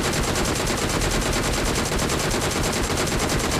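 Sustained automatic fire from a DP gun in the BGMI video game, a loud, dense burst of rapid, evenly spaced shots rattling on without pause.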